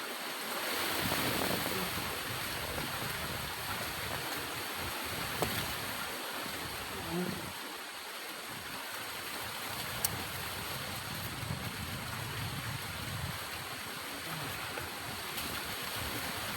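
Strong wind at sea buffets a small boat on a fishing trip, a continuous roaring rush of gusts over water and waves, steady and close for the whole stretch with no talk.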